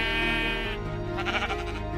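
A Minecraft sheep bleats close and clear, one wavering cry followed by a shorter, buzzier bleat, with no voices over it.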